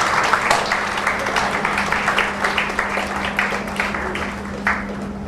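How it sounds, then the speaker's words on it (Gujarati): An audience applauds at a farewell ceremony honouring a professor, with a steady wash of many hands clapping throughout and faint hum underneath. "તાળીઓથી આપણે વધાવીએ"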